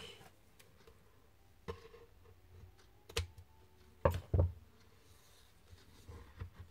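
Scissors snip through a paper decoration in a few sharp, close clicks spaced irregularly, with two louder cuts near together, faint against a quiet room.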